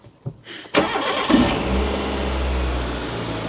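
A Proton Impian car engine cranks briefly after a short quiet moment, catches and settles into a steady, close, low idle rumble.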